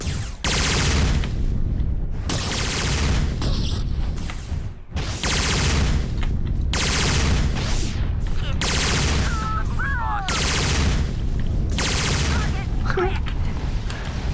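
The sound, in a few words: explosions and gunfire in Starsiege video game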